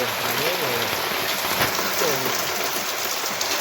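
Dense, loud rainfall pounds a surface in a constant hiss, with a faint voice murmuring briefly underneath.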